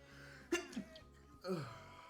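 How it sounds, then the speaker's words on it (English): A man sneezes twice during a live trading stream. The two short, faint, breathy bursts come about a second apart in an otherwise quiet room. "gonna sneeze."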